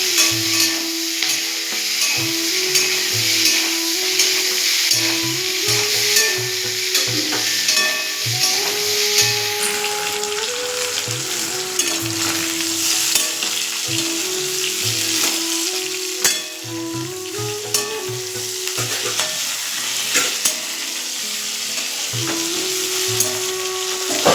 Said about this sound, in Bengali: বন্ধুরা দেখুন ফুলকপি আর আলুটা ভাজা হয়ে গেছে